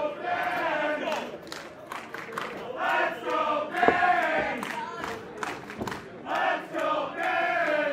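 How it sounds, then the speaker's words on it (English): A wrestling event crowd chants in rhythmic, repeated bursts for the referee, a loud, sustained roar of many voices rising and falling throughout. "Crowd chanting for the official here."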